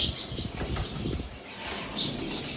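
Racing pigeons coo softly among quick wingbeat flutters, close by and moderately loud, with a brief flapping burst partway through.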